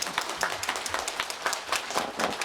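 An audience claps and applauds at a local community political talk event in Dobong, Seoul, with dense, steady clapping that runs through the whole stretch and no voices.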